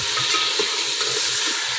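A kilo of beef fries with a packet of beef masala in ghee, giving a continuous close sizzle and hiss broken by soft bubbling pops while the meat is stirred.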